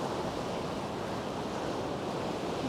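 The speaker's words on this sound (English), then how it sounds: "You can see the island over there where the waves are crashing against it." Waves crash against an island off the coast at Can Pastilla, Mallorca, a steady broadband wash of distant surf mixed with gusting wind noise across the microphone, continuous with no clear individual breakers and no voices.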